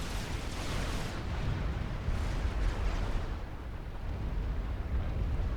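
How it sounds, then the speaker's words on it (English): Artillery fire in the Supreme Commander 2 real-time strategy game, heard as continuous rumbling explosions and booming shell impacts rolling on and off, a steady dense barrage with no voices. "Where's that artillery coming from?"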